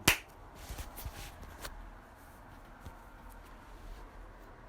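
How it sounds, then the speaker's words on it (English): One sharp hand clap right at the start, loud and close, used to mark the start of a podcast recording. It is followed by a few seconds of faint room noise and small rustles. "Last clap, hopefully."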